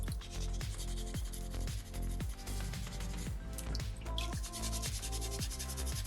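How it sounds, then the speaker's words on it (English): Sandpaper rubs back and forth over a small soapstone shark carving in quick, steady strokes, each pass a close, rasping scrape repeating in an even rhythm. "once we start to smooth it out with sandpaper number 2"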